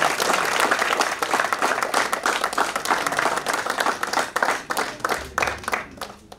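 Enthusiastic audience applause at the Swar Dharohar Festival in Jaipur welcomes poet Moien Shadab: dense, steady clapping from a large crowd, loud and continuous throughout with no speech over it.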